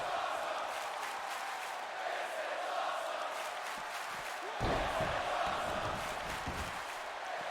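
Arena crowd at a professional wrestling championship match, a steady roar of noise with a louder surge of cheering partway through.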